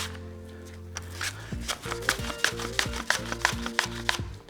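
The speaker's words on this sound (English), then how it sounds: "So we just got basically 2 Honeycrisp apples sliced really thin" Honeycrisp apples are pushed across a mandolin slicer on its thinnest setting, giving a quick series of crisp, rhythmic slicing strokes that grow steadier as the cutting goes on, over soft background music.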